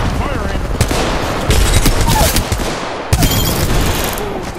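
Rapid bursts of video game gunfire crackle loudly alongside a frag grenade blast during a battle royale match, shots stacking in quick fusillades with a sharp impact around the middle.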